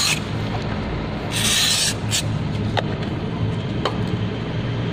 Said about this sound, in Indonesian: untuk kebersihan kita semprot terlebih dahulu menggunakan brake cleaner